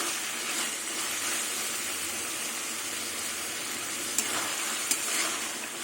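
Potatoes cook with spices in oil, giving a steady, soft, continuous sizzle with an occasional faint clink near the end.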